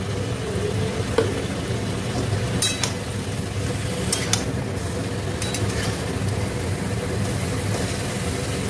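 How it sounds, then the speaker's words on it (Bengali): Boiled chicken pieces coated in a ground paste fry uncovered in hot oil in a pan, giving a steady, close sizzle throughout with a few light clinks of a utensil. "আমি চিকেনে ঢাকা দেবো না, এইভাবেই এটাকে ভাজা ভাজা করবো।"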